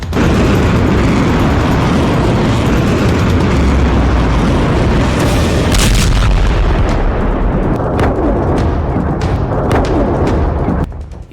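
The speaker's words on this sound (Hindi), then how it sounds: "देखिए, बहरीन में ईरान ने तेल डिपो को कैसे धमाकों से आग का दरिया बना दिया" Explosions at an oil depot in Bahrain make a loud, dense, continuous roar with rumbling booms and bursts, a sharper surge partway through, and fainter crackling toward the end.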